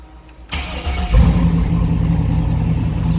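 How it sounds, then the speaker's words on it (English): A 1967 Chevrolet C10 Stepside pickup engine cranks briefly, catches with a loud burst, then settles into a deep, steady idle rumble nearby. "Let's go ahead and fire this thing up."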